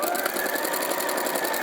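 A domestic sewing machine runs steadily at speed, a close, even rapid stitching chatter that holds for the whole short stretch with no pause.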